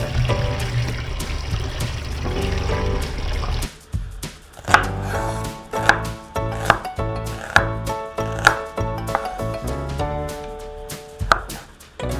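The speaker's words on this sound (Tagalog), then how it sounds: "hugasan at hihiwahin muna natin yung ating mga gagamiting pangrekado" After a rush of running water washing seasoning ingredients for sinigang, a knife chops them steadily on a board in an even rhythm, with soft music underneath.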